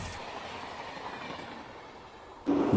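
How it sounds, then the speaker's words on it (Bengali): Ajmer–Sealdah Express rolling past to overtake at Dankuni Junction, a steady rumble of rail wheels and carriages with soft clickety-clack, ending in a sudden louder low burst close by. "আর একদিক থেকে ওভারটেক করে বেরিয়ে যাচ্ছে আজমের শিয়ালদা এক্সপ্রেস"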